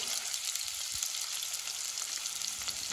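Food fries in a pan with salt, giving a constant loud bright sizzle and crackle close up, with a couple of low knocks from stirring and no voices.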